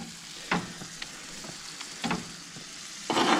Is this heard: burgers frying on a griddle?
yes